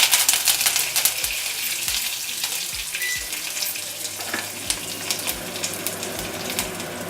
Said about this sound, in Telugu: కొద్దిగా నూనె వేడైన తర్వాత పోపు దినుసులు వేయాలి